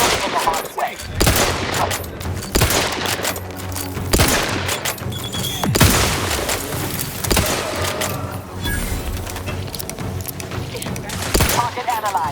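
Gunfire from The Outer Worlds 2 video game: bursts of sharp shots and rapid automatic fire repeat across the stretch, loud and close, with intermittent voices speaking over the combat.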